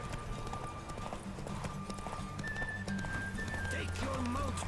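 Roach, Geralt's horse in The Witcher 3: Hearts of Stone, galloping with a rapid clip-clop of hooves and a whinny, with in-game music and voices running over it.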